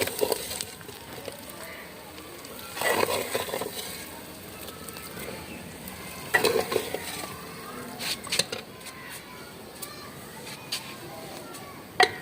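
Carrot, potato and pea curry stirred in a pan, with irregular scraping and clinking bursts of a spoon against metal over a low background hiss, fairly close.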